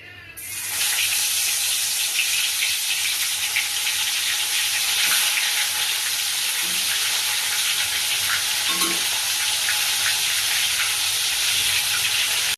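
Bitter gourd (karela) frying in hot oil, a loud, steady broadband sizzle that starts abruptly and holds for the whole stretch, with a few faint stirring knocks and no voices.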